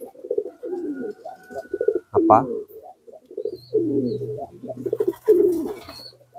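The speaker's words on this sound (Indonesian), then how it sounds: "burung merpati yang giring kita keluarkan pagi hari di kandang seperti ini" Pigeons in a coop, let out in the morning to peck at sand, give low rounded coos in short bursts through the clip, interrupted by a brief flutter-like clatter and mixed with someone talking.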